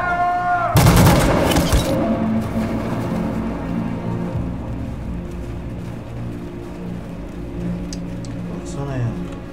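Gunfire on unarmed protesters in Detroit Become Human: a sudden loud volley of rapid shots lasting about a second, then a fading rumble, with speech later on.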